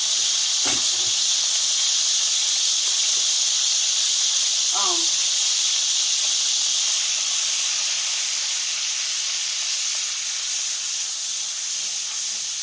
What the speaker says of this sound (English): here's our grease in our skillet. We're going to make some quick gravy.